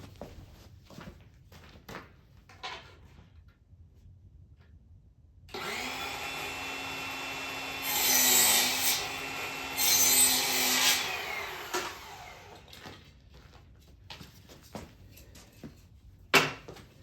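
Wood is cut down on a pinball head. After quiet handling clicks, a tool whines steadily for about six seconds, with two louder rasping bursts in the middle, then stops and the faint clicks of handling return.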